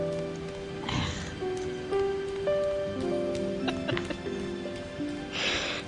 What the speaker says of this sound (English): When I was approaching the park, it began to rain.